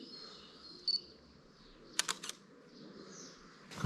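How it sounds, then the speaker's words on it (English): Quiet room tone, then a few crisp mechanical clicks in quick succession from a loud camera shutter firing nearby. "Got a very reassuringly loud shutter, this."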